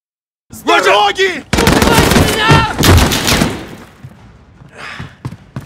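Gunfire in a Call of Duty battle, with loud dense bursts of shots and thuds running under shouted voices before tapering off to scattered sounds.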